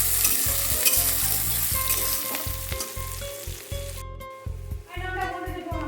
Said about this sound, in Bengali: এবার দিয়ে দেবো পেঁয়াজ, কাঁচা লঙ্কা, রসুন দিয়ে ভালো করে ভেজে নেব।